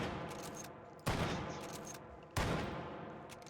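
Mosin Nagant bolt-action rifle firing in the VR game H3VR: two loud, sharp shots about a second and a half apart, each followed by a decaying echo, with no talk.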